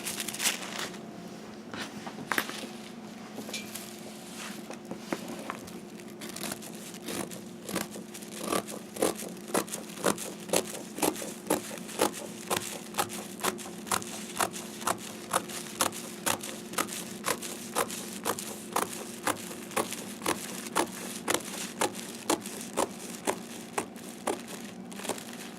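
Quiet, steady snipping of scissors through fabric on a table, a regular run of crisp cuts repeating every half second or so.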